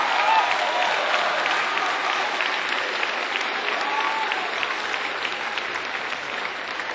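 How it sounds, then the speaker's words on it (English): Sustained audience applause at a 2006 Martin Luther King celebration held by Seattle Colleges, a dense steady roar of many hands clapping at even loudness throughout with no break. "you have a PhD, and that still gets the biggest applause."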